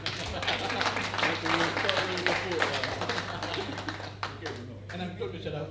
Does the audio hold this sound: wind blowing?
no